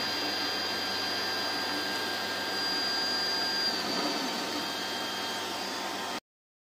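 An M2 dual extrusion 3D printer lays down its first layer in nylon, a steady faint whirring hum with a thin high whine, running evenly for several seconds before stopping.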